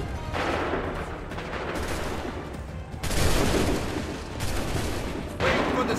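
Redcoat-style soldiers in Assassin's Creed III loose musket volleys, loud crackling broadside bursts at about the three-second mark and again near the end, each trailing off into rumbling battlefield noise.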